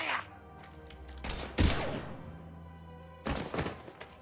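Gunfire in the video game Mass Effect 3 comes as a few sharp, heavy thuds and blasts: one burst near the start, a loud crack midway and another cluster near the end, with quieter stretches between.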